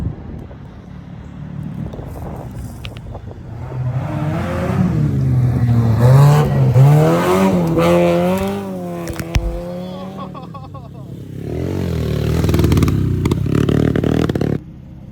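A Mazda Miata rally car driving hard at an SCCA test and tune, engine revving up and down through gears with rising and falling pitch, loud and close, with gravel clatter and scraping bursts.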